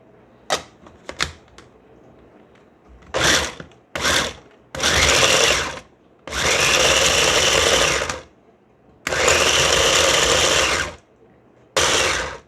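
A kitchen blender or food processor pulses ingredients in a series of loud, close bursts, short at first and then longer, with brief quiet gaps between and a few clicks before the first pulse.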